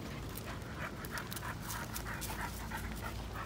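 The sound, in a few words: dog panting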